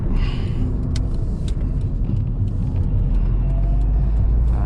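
Steady engine rumble and road noise from inside a moving 2002 Ford Puma, a low continuous drone with a few light rattles.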